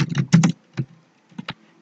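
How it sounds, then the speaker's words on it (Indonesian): Keys clack on a computer keyboard during a ten-finger touch-typing lesson, with a quick burst of several strokes, a pause, then a few more taps, fairly close and with no talking. "tangan kita bermain di atas keyboard ya, tanpa kita melihat keyboardnya"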